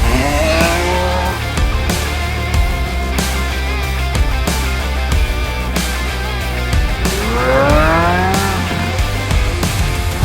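A Koenigsegg Regera with its roof off pulls away, its engine note climbing in repeated rising sweeps, loud and close throughout with no talking.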